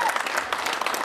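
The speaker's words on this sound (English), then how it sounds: "Come on, big round of applause." A brief burst of audience applause for the poker champion at a European Poker Tour final table in Deauville, dense, close clapping that fills the whole moment.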